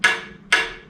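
Two sharp metallic hits on a tin can played as a drum, about half a second apart, each ringing briefly before fading, close and loud.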